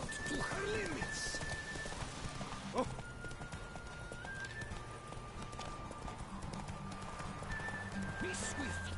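Hoofbeats of Roach, the horse in The Witcher 3, clip-clop steadily under a voice talking, with a few brief whinnies breaking through at the start and near the end.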